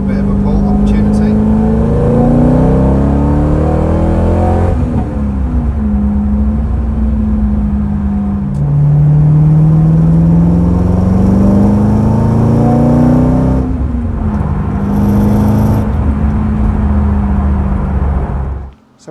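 Tuned Chevrolet Corvette accelerating hard, its engine pitch climbing through long pulls with gear changes in between, loud and close from inside the car.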